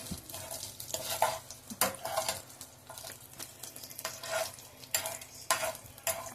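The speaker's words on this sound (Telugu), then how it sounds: "ఇలా వేగించుకుంటూ ఉండాలి." Green chillies sizzle in a pan while being stirred, with irregular scraping bursts of the utensil against the pan over a steady frying hiss, close up and with no talking.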